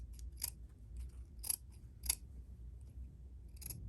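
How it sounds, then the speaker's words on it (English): Scissors snip through double fold bias tape lengthwise, cutting it down the middle for a dress zipper; four or five crisp, close snips come in an uneven rhythm over a quiet room. "I'm actually just gonna cut it down the middle"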